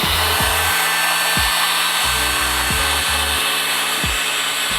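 Heat gun warming vinyl graphics on a kayak: a steady, close, airy blowing hiss with a low motor hum beneath it. No one talks.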